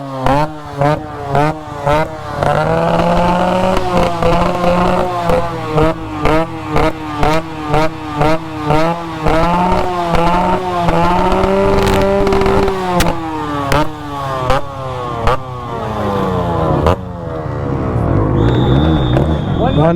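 A loud Yamaha RX two-stroke motorcycle revs hard at a decibel competition, its engine blipping in rapid repeated bursts with crackling pops, close and dominant, ending in a sustained high rev; a voice speaks briefly.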